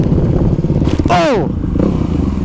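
A supermoto motorcycle engine roars close by, its pitch sweeping sharply up and back down in a quick rev while voices talk over the steady rumble.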